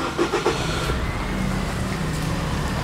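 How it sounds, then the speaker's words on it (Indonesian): A 2012 Nissan Serena's engine cranks and catches, settling into a steady, loud idle close by with no voices. "Saya akan nyalakan mesinnya."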